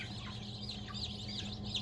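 One-day-old female Lohman Brown chicks peep in a crowded batch of about two hundred laying-hen chicks, a dense, continuous chorus of high chirps heard at moderate distance without talk.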